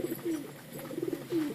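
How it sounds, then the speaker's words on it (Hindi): Pet pigeons cooing close by in soft, low, rolling calls, a few short coos repeating over a quiet background. "व्यूअर ये रहा मेरा कबूतर"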